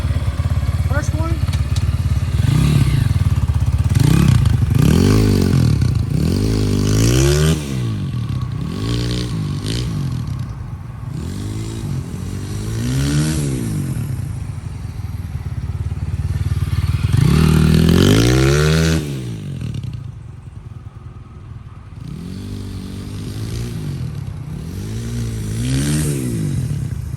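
An Apollo RFZ Z40 four-speed motorcycle kick-started into life, its engine then revving hard in repeated rising bursts that fall back to a chugging idle, loud and close, with talk over parts of it.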